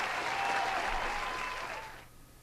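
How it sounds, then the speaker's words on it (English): Applause from a game show audience for a contest winner, a dense burst of clapping that holds steady for about two seconds before quickly fading out. "Once again, a round of applause"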